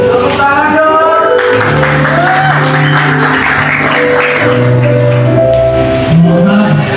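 Audience applause at an event, a steady wash of clapping lasting several seconds with crowd voices mixed in throughout, fairly loud and sustained.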